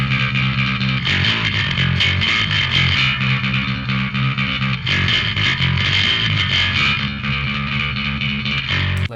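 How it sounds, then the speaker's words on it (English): A distorted, saturated bass guitar line plays steadily and loudly with a thick, gritty tone, with no voices. "Let's listen to the bass without the Channel Strip."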